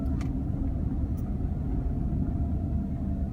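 Car driving along the airport roads toward the Ontario, California terminals, a steady low road rumble of engine and tires with a couple of faint brief clicks above it.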